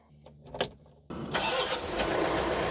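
A John Deere 4052R compact tractor engine cranks briefly after a few faint thumps, then catches and settles into a steady, loud idle that runs to the end.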